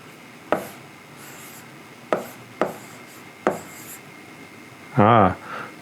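An eraser works against a 55-inch smart board screen: several soft, isolated taps spaced a second or so apart, then a brief, loud squeaky rub lasting about half a second.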